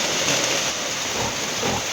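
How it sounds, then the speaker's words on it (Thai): Heavy rain pours down at night beside a pig pen, a loud, dense, continuous wash of noise with no voices. "ฝนตกหนักมาอีกแล้วพี่น้อง"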